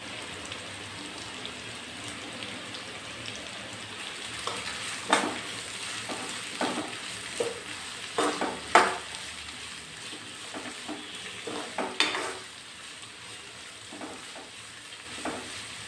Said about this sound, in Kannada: ಈರುಳ್ಳಿ ಸ್ವಲ್ಪ ಚೆನ್ನಾಗಿ ಕೆಂಪಗಾಗಲಿ.